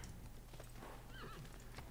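Horse whinny and clip-clopping hooves as a Karasir cavalry unit is made in the Civilization VI video game, a short faint neigh over quick hoofbeats, quiet throughout.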